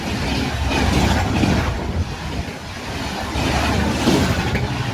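Vivek Superfast Express passing Porabazar station at about 130 km/h, a loud steady rushing roar of the train going by at speed, with wind buffeting the microphone and no talking.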